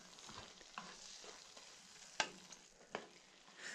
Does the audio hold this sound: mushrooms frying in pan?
yes